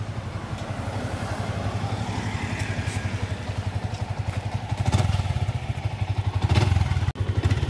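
A motorcycle carries a rider and passenger, its engine throbbing steadily and close throughout with a few louder surges and bumps, and no talking.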